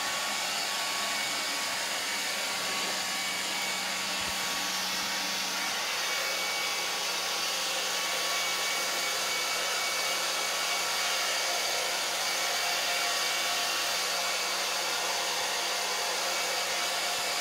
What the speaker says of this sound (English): I'm gonna go get the hair dryer and dry it. Guys, let's blow dry it.